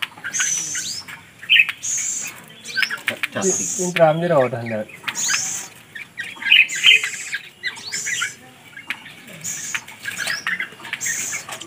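Oriole chicks squawk and chirp repeatedly in harsh, insistent bursts, close by, while people talk in the background.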